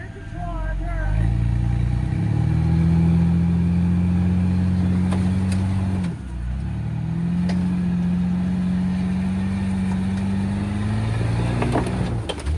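Someone's Jeep engine idles and revs on an off-road trail at Coppinger Cove, Tennessee, a steady close drone with pitch rises and dips and a brief drop near six seconds, making odd noises, with occasional voices.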